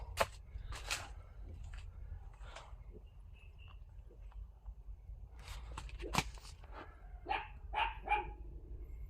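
A dog barks several times, faint and distant, in short scattered bursts over a low rumbling background.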